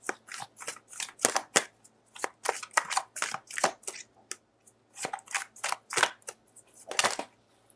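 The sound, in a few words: handling and drawing tarot cards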